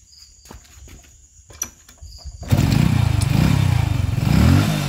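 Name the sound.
motorcycle engine running after refitting spark plug cap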